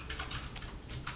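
Computer keyboard keys are tapped in quick, light clicks while entering shortcuts in 3ds Max, close up, with no talking.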